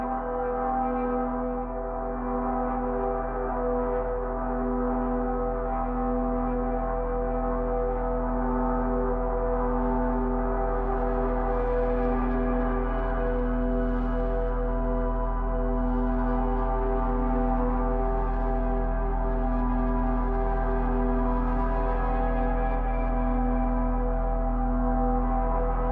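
A piano string sustained with an EBow, miked very close and hot, gives a steady droning tone rich in stacked harmonics, holding at an even, loud level with slight shimmering variation and no other sounds.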